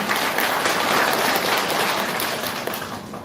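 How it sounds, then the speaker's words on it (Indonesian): Worshippers applaud inside a church during an Easter thanksgiving service, steady dense clapping that holds for a few seconds and then eases slightly. "Tepuk tangan untuk Allah."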